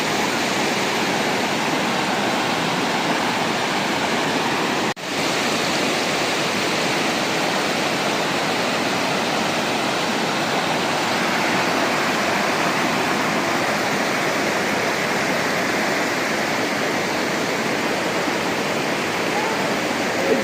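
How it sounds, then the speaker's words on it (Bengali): A rushing mountain stream near Pelling roars in a dense, continuous wash of close, loud water noise that stays steady throughout. "স্রোতের জায়গাটা।"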